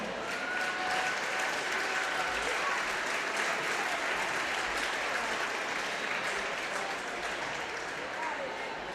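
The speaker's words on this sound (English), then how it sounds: "Another round of applause for all of them." A crowd at a girls' high school basketball game gives a sustained round of applause for returning alumni, steady clapping from a distance with faint voices mixed in.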